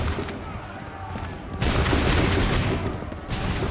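In Assassin's Creed 3, a musket volley erupts as a sudden, loud crackling fusillade over the ongoing roar of battle, and a second burst follows shortly after. Faint voices sit low in the mix.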